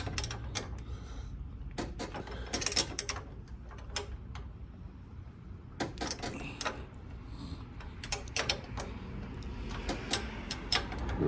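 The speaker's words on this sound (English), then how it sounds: "I just got to tighten my compressor side back up" A ratchet clicks in short bursts while tightening the compressor housing bolts on a Buick Grand National turbo, the sharp ticks coming in irregular clusters, close and fairly quiet.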